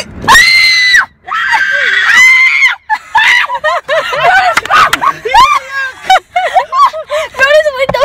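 Several people scream at full volume inside a car on a freezing day, shrieking in long wavering bursts that break off, restart and overlap, loud and close, with brief gaps where the screams trail off.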